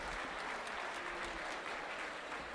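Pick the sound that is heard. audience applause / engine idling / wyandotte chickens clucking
audience applause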